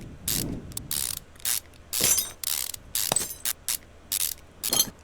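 Engine parts are unscrewed in a car mechanic video game: quick bursts of ratchet-like clicking repeat in an uneven rhythm, crisp and close, with no talking.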